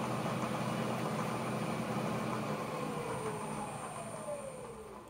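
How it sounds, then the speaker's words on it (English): A CNC-converted Bridgeport milling machine spindle runs forward on a variable-frequency drive, making a steady, loud, continuous mechanical hum and whine that holds evenly throughout and fades slightly toward the end. "And if I go ahead and turn everything on, I can put it in forward. And my spindle's running."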